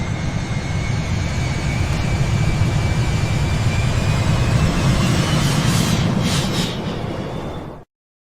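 An airplane engine sound effect, a loud, steady roaring drone with a faint high whine that holds for about eight seconds and then cuts off abruptly.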